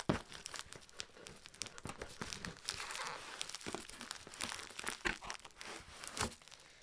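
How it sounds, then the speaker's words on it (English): Bubble wrap and layers of tape being pulled and torn from a package holding a vintage Gruen Precision watch, with close, continuous crinkling, crackling and ripping bursts at a quiet level. "we got layers of tape and bubble wrap to cut through"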